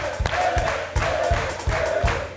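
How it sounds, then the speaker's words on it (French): A live television studio audience applauds and cheers, the clapping steady and dense, with rhythmic thumps under it and a voice calling out over the crowd. "Applaudissez pour le vieux."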